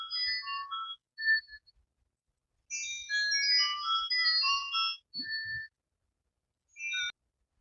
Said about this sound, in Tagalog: Tumatawag.